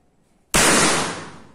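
A single sharp, loud air rifle shot cracks out after a moment of near silence, then its noisy burst fades gradually.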